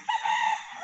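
A rooster crows once, a short, loud, close call with a steady tone lasting under a second, clear and alone.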